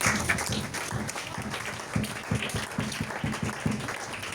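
A church congregation breaks into sustained applause, dense overlapping hand claps filling the room at a steady level throughout.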